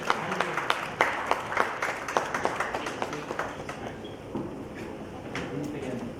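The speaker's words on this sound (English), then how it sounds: "A round of applause as well." An audience at a city-planning summit session gives scattered applause, with distinct individual claps over a soft wash that fades gradually.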